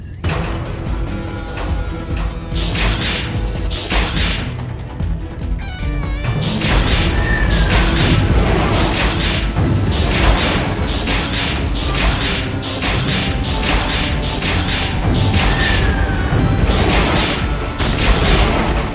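Falling magma rocks crash repeatedly in the Transformers Rescue Bots Dash game, loud bursts over a busy, continuous game soundscape with mechanical clatter.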